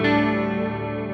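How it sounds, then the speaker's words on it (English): Acoustic guitar in DADGAD tuning with a chorus effect, one open strummed chord ringing out steadily and close, with a shimmering sustained tone and no talking. "let's start by tuning our guitars in the very popular DADGAD"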